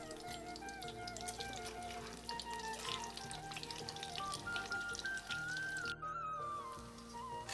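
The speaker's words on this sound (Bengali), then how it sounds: "আমি কড়াইতে একটা করে দিয়ে দিব ভাজার জন্য।" Coated pieces fry in oil in a wok with a soft, continuous sizzle and light spatter, fairly faint and accompanied by tonal background sounds.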